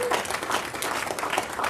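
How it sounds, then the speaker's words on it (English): Rotary club meeting audience applauding Linda and the membership team, a short, steady burst of many hands clapping in a room. "Big round of applause for Linda and membership team too"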